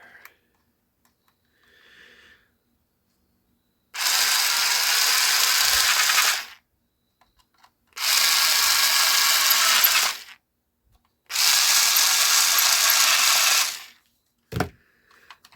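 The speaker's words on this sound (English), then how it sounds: "And we'll drill it back in together." A power drill drives screws into a toy train set in three loud bursts of a couple of seconds each, separated by short pauses, with a sharp clink at the end.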